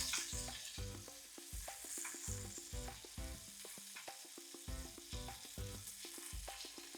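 Scallops sear in a hot pan with butter, a continuous crackling sizzle running under fairly loud rhythmic background music.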